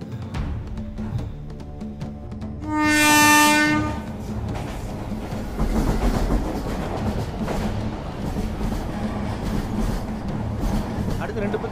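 A train blows a loud, sustained horn for about a second, then rolls past with rumbling and rhythmic clattering wheels that continue steadily, while people talk nearby.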